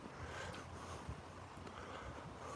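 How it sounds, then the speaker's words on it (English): A steady, soft rush of a heavily running waterfall fills the air, continuous and unchanging, with faint wind buffeting. "Here's a stunning waterfall here. Absolute stunning waterfall. It's running heavy here"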